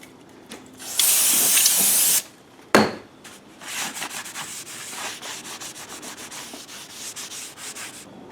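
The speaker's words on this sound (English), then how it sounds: "So, use some brake cleaner here." Brake cleaner sprayed onto a car flywheel during a rear-wheel-drive clutch replacement: a loud, steady hiss lasting about a second, then a sharp knock, followed by scattered rubbing and scraping close by, with no talk.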